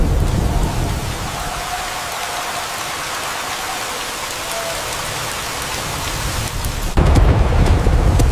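Heavy storm rain pours steadily over the Chambal region at night, a dense hiss of drops on surfaces, with a deep thunder rumble surging in near the end.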